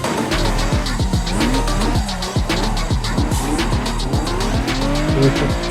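A car drifting with long, repeated tire squeals and a loud revving engine, the screeches sweeping up and down in close succession as the car slides.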